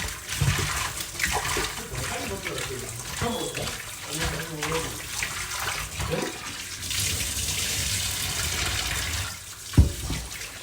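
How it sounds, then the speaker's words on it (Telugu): Running tap water pours steadily while a korameenu fish (murrel) is rinsed clean of salt and turmeric, with splashing and handling noises throughout and a voice talking over it. "మళ్ళీ వాటర్ కింద పెట్టి మళ్ళీ నీట్గా కడుక్కోవాలండి"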